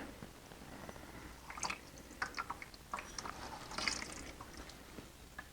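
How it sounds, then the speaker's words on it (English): Acetone solvent dripping and trickling out of a catalytic converter being cleaned, faint irregular wet drips and small splashes scattered over a quiet background hiss, close by. "I'll let that drip dry for a few minutes until I can't hear any more solvent inside of it"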